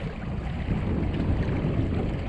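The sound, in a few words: wind gusts on a sailboat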